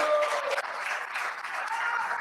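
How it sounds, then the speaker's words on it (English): Applause from an audience at a Haitian Flag Day community celebration in Chicago, steady and sustained clapping that fills the room evenly throughout, with no break. "Let's clap for that"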